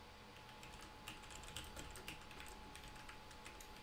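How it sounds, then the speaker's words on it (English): Quiet keyboard typing, a scattered run of soft clicks and taps, close but faint, with no one speaking. "Sorry about the typing noises."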